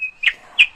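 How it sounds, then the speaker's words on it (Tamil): Two short, bright bird chirps ring out clearly in a nursery rhyme sound effect, spaced apart after a thin whistle-like tone, close and alone. "பழங்கள் தின்ன பறந்து வரும் பறவை கூட்டங்கள்,"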